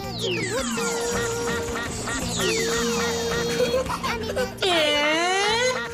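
Cartoon duck quacks in a children's animated show, a run of bright, nasal squawks sliding down in pitch, close and loud over busy music and effects, with a last rising quack near the end.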